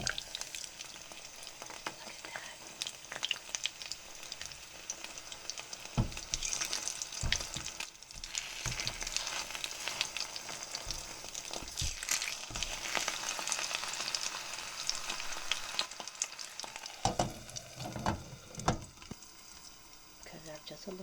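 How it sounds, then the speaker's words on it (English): Eggs fry in a tiny electric skillet with a continuous close crackling sizzle and occasional scraping stirs, with no talking. "Listen to those eggs cook."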